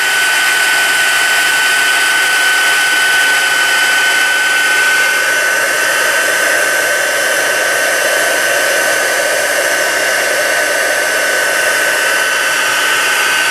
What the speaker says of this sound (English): You want to keep moving your heat tool just slowly